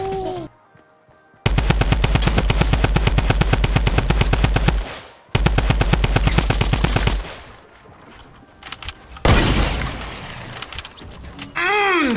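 Automatic weapon fire in the video game Fortnite, with two long, loud, rapid bursts of gunshots and a scattering of single shots and game effects afterward.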